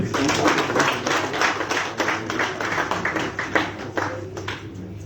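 Audience clapping at a youth peace and tolerance gathering in Zimbabwe, a steady patter of many hands that stays fairly even for about five seconds, with faint background murmur underneath.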